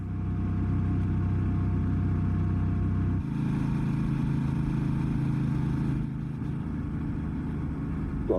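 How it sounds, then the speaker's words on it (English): A Honda Transalp motorcycle engine braking down a steep hill on a backcountry trail: a steady, droning engine note held back by the slope, loud and continuous, with one shift in pitch partway through. "You can hear the the motor holding my bike back because it's so steep. I'm just engine braking down this hill."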